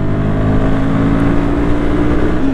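Royal Enfield Guerrilla 450 motorcycle engine pulling hard toward 6000 rpm, a loud, steady, close engine drone with strong low harmonics and rushing wind.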